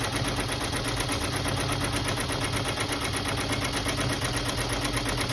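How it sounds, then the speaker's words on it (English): An embroidery sewing machine fitted with a magnetic hoop runs a sew-down stitch on fabric, giving a steady, dense, fast mechanical whir that stays constant throughout. "And now it's going to do the sew down stitch for your"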